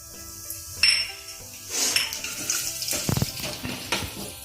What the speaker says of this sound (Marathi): जिरा आणि मोहरी टाकायची.